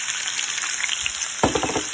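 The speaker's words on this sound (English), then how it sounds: "Add my peeled and deveined shrimp." Peeled and deveined shrimp hitting a hot pan for scampi, a steady sizzle that flares into louder crackling as they drop in near the end.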